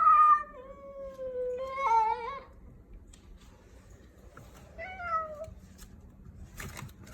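A cat outdoors at night gives several clear, drawn-out meows, two close together early and another a few seconds later, against a quiet background with faint rustling.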